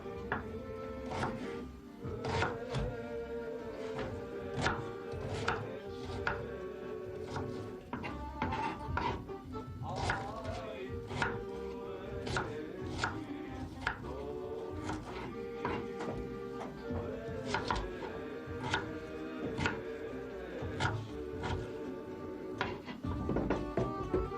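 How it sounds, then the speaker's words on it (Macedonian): Onion being finely chopped on a board with a knife: a fast, steady run of crisp, close taps repeating throughout over a continuous musical backdrop. "се зема кромидот, ситно се сецка"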